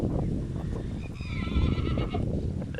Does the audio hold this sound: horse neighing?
yes